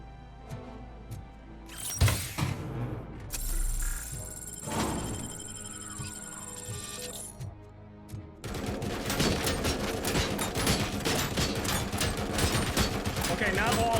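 Gunfire rattles against a metal dumpster in the video game Robocop: Rogue City, with bursts of shots, clanging metallic thunks and sharp impacts, then a sustained dense volley of rapid fire in the second half, loud and close, with someone talking over parts of it.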